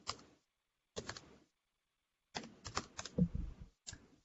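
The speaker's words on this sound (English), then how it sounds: "I'm like typing all this like weird stuff" Quick bursts of typing on a computer keyboard, close up and fairly quiet, with clusters of clicking keystrokes broken by short silences.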